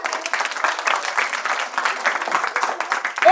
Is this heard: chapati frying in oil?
no